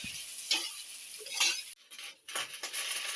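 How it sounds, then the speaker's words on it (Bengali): Mashed potato fries in hot oil with panch phoron in a wok, giving a soft sizzle and intermittent scraping and clinks of a spatula stirring, fairly quiet and close. "একটু হালকা মতো ভেজে নেবো এখন আলুটাকে।"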